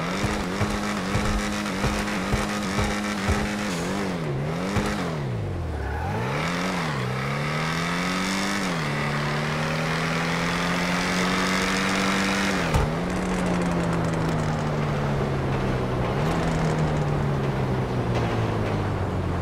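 The Emperor Vectre sports car in GTA Online revs hard, its engine note rising and falling through repeated throttle blips, then settling into long sustained high revs, loud and close with no talk.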